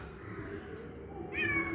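A single cat meow rises near the end over a steady low background hum, fairly close and moderately loud, from a cat stuck somewhere below.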